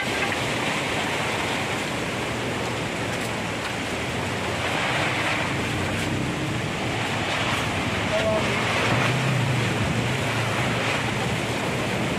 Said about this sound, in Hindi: बहुत जोर तूफान देखिए